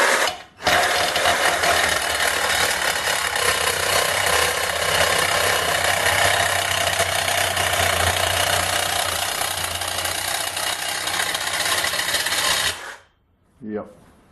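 Cordless reciprocating saw fitted with a coarser blade cutting steadily through metal, a loud harsh rasping buzz lasting about twelve seconds before stopping abruptly, followed by a brief knock.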